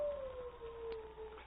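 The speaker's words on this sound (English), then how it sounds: "That's the cry of a wolf." A wolf cries in a radio drama sound effect, a single long, thin howling tone that slides slightly downward, heard faint and alone with no voices.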